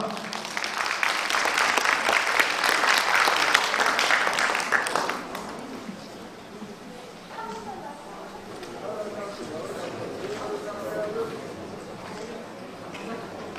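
A crowd at an award ceremony gives a round of congratulatory applause, dense clapping for about five seconds that then drops away, leaving a room murmur and a voice speaking over scattered claps.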